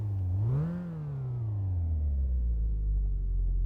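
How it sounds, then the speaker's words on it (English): A small inline four-cylinder engine in a Ford F-150 starts up and settles into a steady, low idle, with a brief rise in revs near the start before it drops to an even, continuous hum up close. "And you can hear that little inline 4 purring away."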